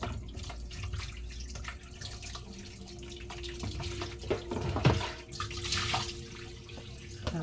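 Tilapia being rinsed under a running tap at a sink, a steady close stream of water with a few splashes and drips, no talking.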